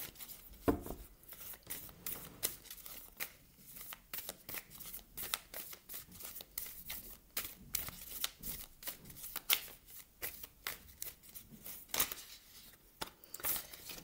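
Oracle cards being shuffled by hand to draw one, a steady run of crisp, close riffling and flicking snaps over about fourteen seconds, alone without talk.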